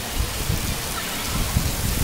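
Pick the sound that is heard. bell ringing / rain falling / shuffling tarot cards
rain falling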